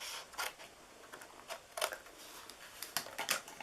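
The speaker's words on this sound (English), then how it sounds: "We are cutting this piece off here, the 1/2 inch side" Scissors snip paper for a kite treat box in a run of quiet, separate crisp cuts, a few grouped close together, heard up close with no talk.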